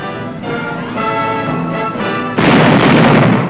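Cannon and machine gun fire from a Monitor shallow-draft landing craft, armed with 40mm and 20mm cannon, an 81mm mortar and .50 and .30 caliber machine guns, makes a loud, sustained roar that grows heavier toward the end.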